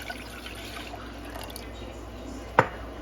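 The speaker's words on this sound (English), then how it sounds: "we're gonna add 1 part vinegar" Vinegar being poured into a pot, a soft continuous trickle close by, with a brief sharp knock near the end.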